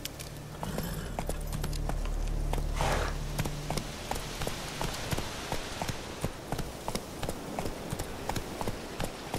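Roach, a horse in The Witcher 3 video game, trots on wet ground while rain falls, a steady run of clip-clopping hooves that keeps a regular rhythm under continuous rain hiss.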